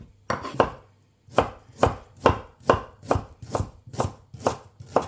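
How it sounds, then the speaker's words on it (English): A kitchen knife chops fresh ginger into thin julienne strips on a board: about ten sharp, evenly spaced taps sound close and loud after a brief pause, with no voices. "you want to do this to all of the ginger. Cut it as thin as possible."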